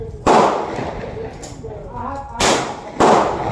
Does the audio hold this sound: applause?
no